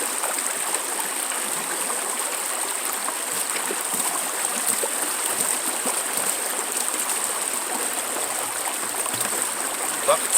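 Water runs steadily through a gold sluice box with a continuous bright rushing and splashing, fairly close, alongside a constant high-pitched whine.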